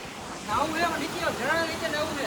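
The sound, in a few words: waterfall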